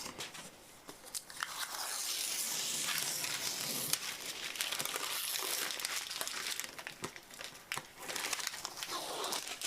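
Continuous crinkling and tearing of stiff protective paper peeled from Atomstack A24 Ultra laser engraver parts, close and fairly loud, with scattered sharper crackles throughout.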